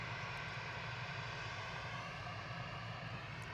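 A steady, faint, broadband engine drone from an aircraft taxiing at Manchester Airport, continuous and even with no change in level, heard from a distance without any voices.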